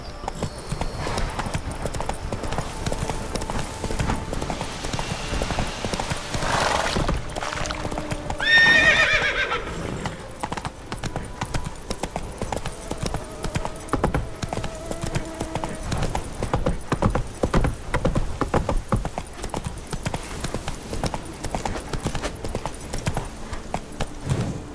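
Roach the horse in The Witcher 3 gallops with steady rhythmic hoof clip-clops, interrupted midway by a short whinny, then carries on at a brisk pace.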